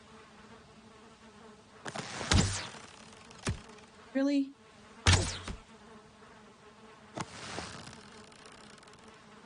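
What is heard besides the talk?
buzzing bees at a bee's nest in a video game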